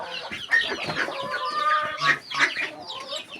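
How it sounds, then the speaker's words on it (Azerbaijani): Hens clucking as they sit in their nests to lay eggs on a farm: overlapping soft clucks and drawn-out calls from several birds nearby, steady and close, with no talking. "Toyuqlar oturub yuvada."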